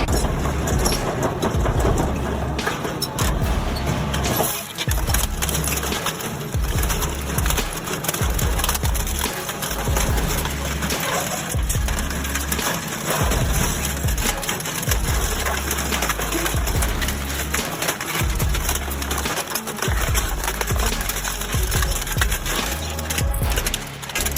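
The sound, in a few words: giant metal shredder crushing old motorbikes and cars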